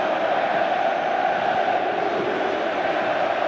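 Football stadium crowd at the Bernabeu during a Spain versus England friendly in 2004, a steady dense roar of many voices filling the air without pause.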